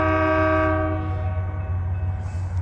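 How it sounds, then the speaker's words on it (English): A loud Union Pacific train horn blasts with stacked harmonic tones over the steady low rumble of the passing train, the horn fading after about a second. "So I was thinking we probably had another train coming"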